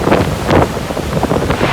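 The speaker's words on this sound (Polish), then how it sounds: "a morze za mną dosłownie szaleje. Mamy do czynienia z najsilniejszym sztormem w tym sezonie." Storm surf on the Baltic-style open sea in the strongest storm of the season: loud, buffeting wind rumbling across the microphone over crashing waves, dense and continuous with no voices.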